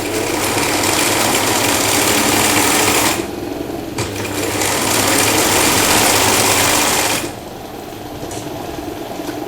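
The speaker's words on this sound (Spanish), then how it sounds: "Entonces seguimos cosiendo." A sewing machine hems a T-shirt with a loud, close, steady motor whir, running in two long bursts separated by brief pauses.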